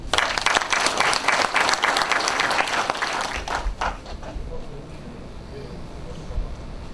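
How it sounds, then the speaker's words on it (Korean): Audience applause welcoming a politician at a book talk concert in Jeonju, loud dense clapping that gradually thins and fades, with low rumbling and some crowd murmur toward the end. "박수로 맞이하겠습니다."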